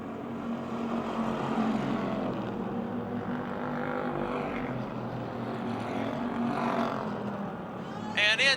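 Race cars lapping Motordrome Speedway near the end of a race, a continuous droning engine roar from the field at moderate distance with an announcer talking over it.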